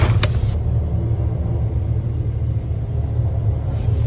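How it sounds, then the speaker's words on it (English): A steady low rumble of a car driving fast, heard from a distance outdoors at a campsite, continuous and unbroken with no talk. "Now I hear really fast driving."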